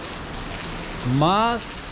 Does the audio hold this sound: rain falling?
yes